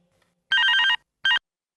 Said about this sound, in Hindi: चुप भी हो जाओ, फोन बज रहा है।